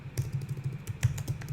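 Quick, steady typing on a computer keyboard, close by, a run of soft clicking keystrokes with no talk over it.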